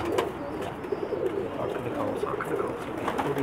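Pakistani pigeons coo softly and repeatedly at close range in a loft, with soft rustling and faint background chatter throughout.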